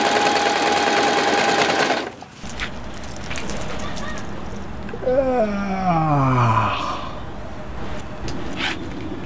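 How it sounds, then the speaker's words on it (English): A sewing machine runs steadily in an indoor setting for costume making, its mechanical whir continuing beneath a scene with other sounds and swooping tones partway through. "I'm gonna need a sewing machine."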